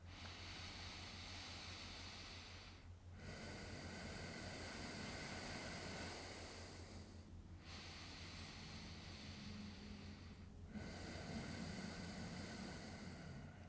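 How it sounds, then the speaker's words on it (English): Deep, full yoga breaths taken very close to the microphone, heard as long airy rushes separated by short pauses, repeated about four times and faint overall. "Take 3 full breaths."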